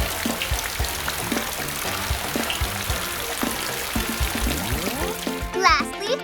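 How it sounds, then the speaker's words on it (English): Water pouring and splashing to rinse soap bubbles off a cartoon police car, a continuous spattering wash heard with cartoon voices talking over it and a brief musical flourish near the end. "let's rinse the bubbles off with water"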